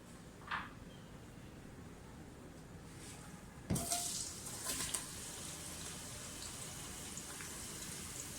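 Onions drop into hot mustard oil with a sudden crackling splash, then settle into a soft, steady sizzle and hiss.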